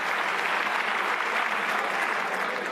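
An audience applauds ministers at a speech by French Prime Minister Michel Barnier, with dense, steady clapping that stays loud and unbroken throughout.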